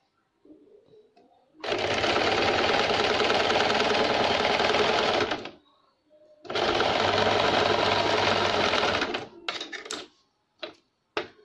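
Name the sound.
sewing machine stitching pink piping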